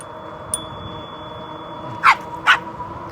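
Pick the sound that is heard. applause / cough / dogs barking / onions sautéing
dogs barking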